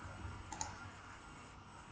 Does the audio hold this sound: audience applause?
no